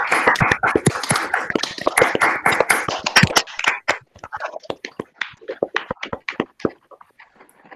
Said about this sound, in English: I'd like everybody to unmute and give a quick round of applause for Vandana